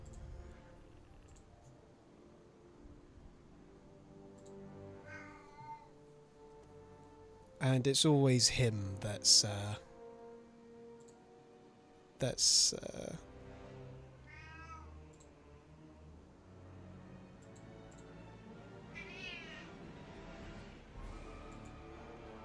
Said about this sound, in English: Oh, Max is so loud. Yeah, I've got 2 cats.